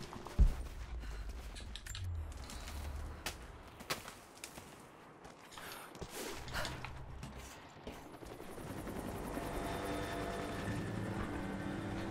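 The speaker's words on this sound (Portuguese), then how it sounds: "Que helicóptero fofo" A helicopter in Rise of the Tomb Raider whirs with a throbbing rotor beat, starting under game sounds and impacts, then swelling into a loud, steady drone toward the end.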